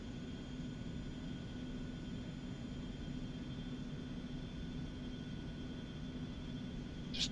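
An airliner taxiing out at Gulfport-Biloxi in X-Plane 11 gives a steady, even engine drone with a low rumble and faint high whine tones, unchanging throughout, with one brief bright click right at the end.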